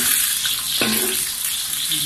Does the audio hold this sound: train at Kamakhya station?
no